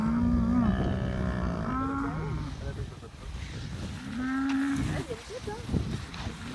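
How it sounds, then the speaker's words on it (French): Dairy cows on a farm low in long, drawn-out moos, several calls one after another at close range, with a person's voice faintly underneath. "Bon, on est arrivé parmi les vaches laitières."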